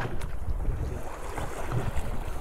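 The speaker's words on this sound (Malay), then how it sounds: "Angin pun boleh tahan lah hari ni" Wind blowing over open sea around a small fishing boat, a steady broadband rush with low buffeting gusts against the microphone, continuous and fairly close, with no talking.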